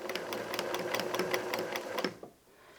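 A sewing machine runs a dense zigzag stitch, 3 mm wide with a stitch length near 0.2, over fabric scraps for origami patchwork appliqué. The motor whirs with a rapid, even needle clatter, then stops abruptly after about two seconds.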